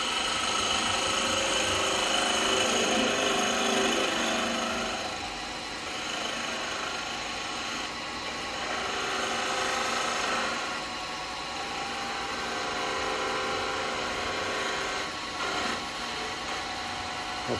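A wood lathe spins a log while a spindle gouge cuts into it, a steady motor hum with a rough, scraping tool sound that swells and eases as the cut goes on, with no talk.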